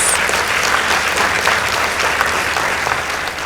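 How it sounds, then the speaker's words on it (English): Applause from a school debate audience after Utumishi Academy's score is announced: a steady, even wash of many hands clapping from a large crowd, moderately loud, with no speech over it. "Let's give them a round of applause"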